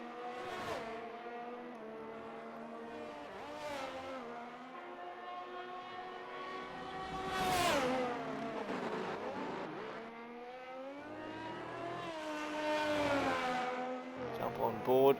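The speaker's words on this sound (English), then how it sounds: "Cars everywhere at this stage." Race cars lapping Imola in a sim racing game, with a continuous engine roar that rises and falls as cars rev, shift and pass close by, several surges throughout, under a commentator's voice.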